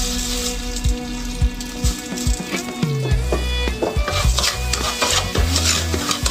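Hand-made fried millet is stir-fried in a pan, with repeated scraping and clacking of a utensil against metal in an uneven rhythm, close and fairly loud, alongside light sizzling.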